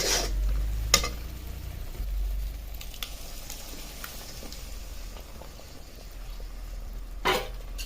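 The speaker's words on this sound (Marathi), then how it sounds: "आता ह्या तयार मसाल्यामध्ये आपण आपली जी घोटलेली डाळ टाकून घेणार आहोत" Mashed dal added to a frying masala and stirred, giving a soft sizzle and bubbling with wet squishing stirs and a couple of sharper spoon knocks, close and fairly quiet.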